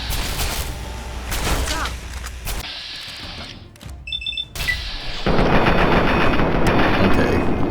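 Player's gun firing in Fallout 3, rapid bursts of gunshots with heavy loud stretches broken by short pauses and a brief electronic beeping, close and dense game audio.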